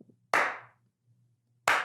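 Two isolated hand claps ring out sharply, spaced well over a second apart in a slow, deliberate rhythm, each with a short decay into quiet.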